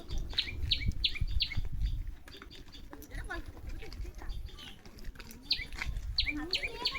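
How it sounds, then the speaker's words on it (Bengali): A tailorbird hidden in woodland near a village repeats quick, sharp chirps in rapid bursts at the start and again near the end, over a low background rumble. "একটা টুনটুনি পাখি ডাকছে"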